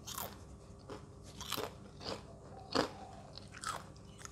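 Crisp bites and crunches of revived stale potato chips, about six sharp crunchy bursts spaced roughly half a second apart, close up in a quiet kitchen.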